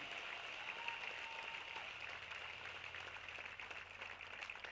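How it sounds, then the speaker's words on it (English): Crowd applause at a baseball game between Northwest Star and the Ridgefield Raptors, a faint distant patter of clapping with outdoor ambience, steady throughout. "Let's give a big round of applause first just for Casey's accomplishment and participation in this community."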